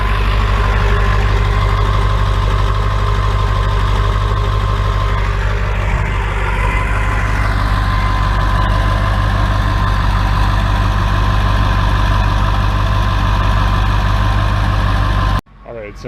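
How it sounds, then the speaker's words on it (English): A diesel truck engine idles loud and close, a steady low rumble that holds evenly for about fifteen seconds before cutting off abruptly. "This is the idle."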